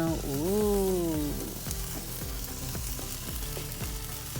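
A T-bone steak of Alberta beef sizzles on a covered barbecue grill, a close, steady crackle and hiss with scattered pops. A whooshing sound rises at the start, and no one speaks.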